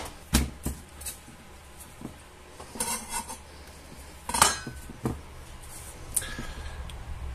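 A knife cuts through potatoes on a board in separate crisp strokes, slicing them into thin rounds about a quarter to half a centimetre thick, with sharp clicks and soft thuds spread irregularly across a quiet kitchen.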